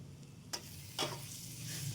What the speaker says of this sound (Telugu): కారం వేసుకున్నాక ఒక 2 నుంచి 3 నిమిషాల దాకా బాగా ఫ్రై చేసేసుకోవాలి.